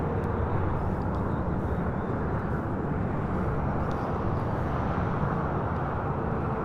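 A Delta airliner comes in to land on runway 25 left at LAX, its steady broadband jet roar filling the scene continuously and loudly throughout, with no pause or break in the rumble.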